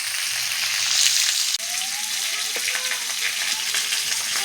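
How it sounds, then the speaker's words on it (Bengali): Cut potatoes fry in hot oil in a pan, giving a steady, loud, dense sizzle with a few crackles and a brief clatter partway through; no voices. "আলুটা দিকে ভাজা হোক"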